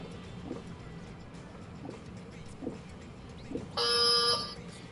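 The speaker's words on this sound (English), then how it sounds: "And his buzzer has sounded." A game show buzzer blares once, loud and steady for about a second, rising over quiet studio background with a few soft knocks before it.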